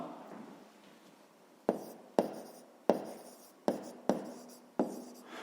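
Pen or pencil strokes writing a maths answer by hand on paper, a series of short sharp scratches and taps in quick bursts, close and fairly quiet, with no talking.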